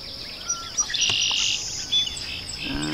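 Red-winged blackbirds call near a kayak on the water in early morning, with scattered chirps and a sustained high whistling call, moderately close, with no talking.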